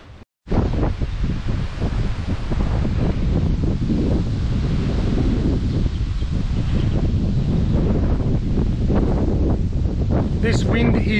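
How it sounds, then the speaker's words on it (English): Strong gusty wind at a fishing waterhole buffets the microphone with loud, continuous roaring rumble and rustle for the whole stretch, with no letup. "This wind is ridiculous."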